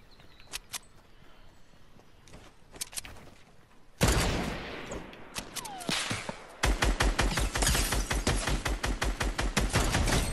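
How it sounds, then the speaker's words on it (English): Gunfire in the video game Fortnite: scattered single shots at first, then loud bursts and rapid automatic fire in a fast, even rhythm, close and dominant with no talking. "Shots coming from noon."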